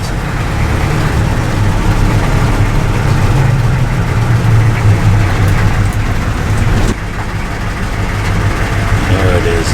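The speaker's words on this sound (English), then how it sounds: "Lose custom exhaust." A CUCV M1028 military pickup truck engine with a custom exhaust rumbles steadily and loudly at close range, a deep continuous drone with a slight dip partway through.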